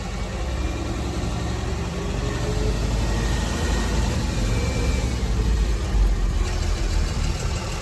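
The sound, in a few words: driving-school vehicle engine pulling back up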